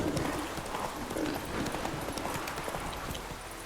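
Horse hooves clip-clop in a steady rhythm along a road in The Witcher 3, with a voice talking faintly underneath.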